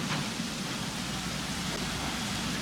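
Steady rain in the dinosaur park game Jurassic World Evolution, a dense, even hiss of falling drops that holds at constant loudness throughout with no other sounds.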